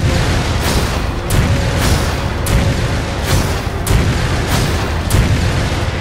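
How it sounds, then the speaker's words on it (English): Dense barrage of deep booming explosions and gunfire in Resident Evil 5, blasts landing roughly every second over a continuous rumbling battle din, loud and close with no voices. "This is a lot of explosions."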